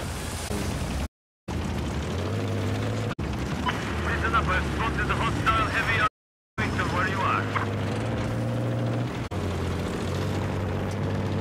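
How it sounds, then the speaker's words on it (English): A helicopter flies in the vehicle game Road 2 Max: a steady, droning engine hum with rhythmic rotor pulsing, broken by two brief dropouts and mixed with explosive bursts. "it was friendly helicopter, I think"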